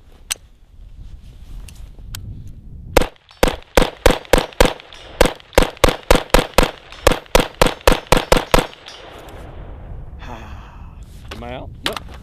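A rifle fired outdoors in a long run of rapid, evenly spaced sharp shots, loud and close, with quiet gaps before and after and a few clicks of handling at the end.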